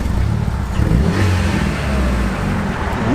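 The engine of a hot hatch car, left abandoned for four years, revs loudly and close by, a continuous low rumbling drone that swells and holds throughout.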